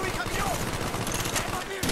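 Rapid sustained gunfire from the video game Call of Duty Black Ops, dense machine-gun bursts and shots filling the whole stretch, loud and close, with voices faintly under the battle noise.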